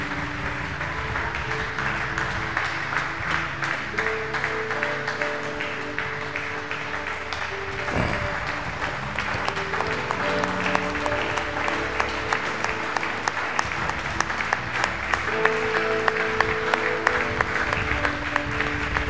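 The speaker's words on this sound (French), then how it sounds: "Acclamons très fort pour le Seigneur Jésus" A church congregation claps continuously and steadily, a dense, sustained applause that swells slightly toward the end, with some crowd voices mixed in beneath it.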